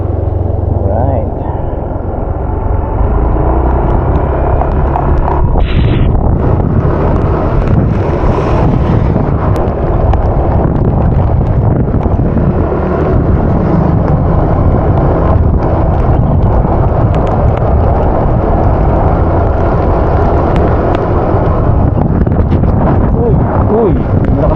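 Strong wind roars continuously into an outdoor microphone near a hillside subdivision, a loud broadband rush with gusty swells and a brief whistle, sustained throughout with no pause.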